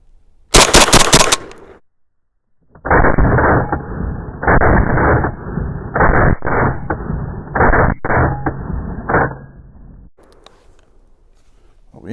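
A Saiga 410 semi-automatic shotgun fires a quick string of shots outdoors, each blast loud and close, following an earlier separate burst, with the reports ringing out in rapid succession before trailing off into quiet.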